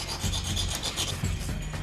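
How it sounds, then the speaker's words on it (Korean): Mother-of-pearl inlay pieces filed and smoothed by hand for a lacquerware cabinet, a close, steady rasping rub with repeated strokes running through the whole stretch. "매끄럽게 들어맞도록 갈고 다듬는 작업."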